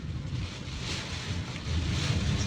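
Steady wind rumbles and buffets while driving in the rain, a low roaring whoosh that swells slightly toward the end, with no voices.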